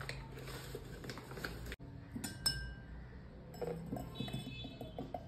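A spoon clinks against a glass while protein powder is stirred into cold water, with light, close taps and scrapes in short bursts and a soft pause partway through.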